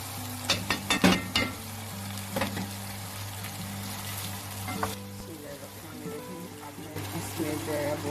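Koftas fry with garlic and onion in a pan, giving a steady sizzle with a few sharp crackles and stirring knocks early on, then settling to a softer, even hiss.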